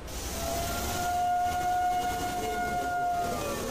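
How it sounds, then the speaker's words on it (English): A video game siren wails in a long, steady rising-and-holding tone at fairly close range, sounding alone over a low rumbling background with no talking. "Sirens."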